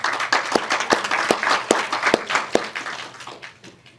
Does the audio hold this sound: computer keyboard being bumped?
no